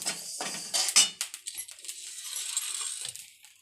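Handful of whole cloves tipped into a container while making chakli bhajani flour, a quick scatter of small hard clicks and rattles, close and fairly quiet, fading into a light settling patter.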